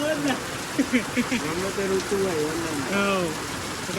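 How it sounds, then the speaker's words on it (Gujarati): Steady heavy rain pours down, a constant hiss under bursts of nearby talk, heard from a rooftop. "વરસાદ ફાસ્ટ આવ થઈ ગયો"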